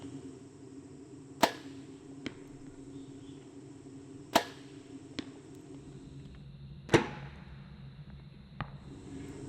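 Arrows from a bow fitted with an Axcel Landslyde sight strike a target at 60 yards during practice, giving three sharp, loud thuds spaced a few seconds apart, each trailed by a fainter click, over quiet outdoor background.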